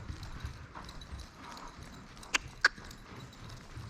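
A horse's hooves on a dusty riding surface at a walk, soft irregular clip-clops with two sharper distinct hoof strikes close by, no talking.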